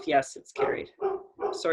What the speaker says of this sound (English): that's my dog. I don't know why he's barking.